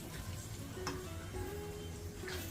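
Garlic frying in oil for a lemon-chilli pickle, a soft steady sizzle close by with faint stirring clicks, no talk.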